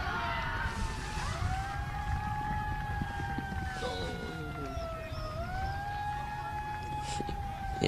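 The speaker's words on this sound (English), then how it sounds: "I think there's sirens for the hockey match on over the road when someone scores a goal." Rising and falling siren tones from a field hockey match across the road, sounding after a goal during a Germany vs Italy T20 cricket match, steady and fairly distant over a constant background rumble.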